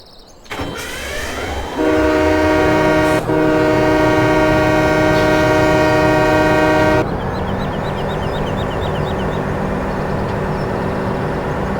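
A loud train horn blares in long sustained tones over rumbling engine noise in Farming Simulator 17, then cuts off and gives way to steady rolling train sounds, with no speech.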